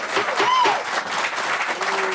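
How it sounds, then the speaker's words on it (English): Brief applause breaks out in a legislative hearing room during a House rules panel session on an equal rights amendment bill, steady clapping mixed with murmured voices and a faint whistle-like tone. "There shall be no applause"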